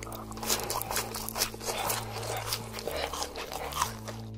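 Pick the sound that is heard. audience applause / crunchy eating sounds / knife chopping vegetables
crunchy eating sounds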